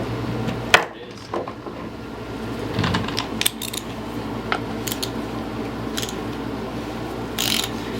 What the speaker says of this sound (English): we'll go ahead and take that out real quick as well, if I can find my wrench